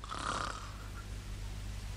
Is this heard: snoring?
yes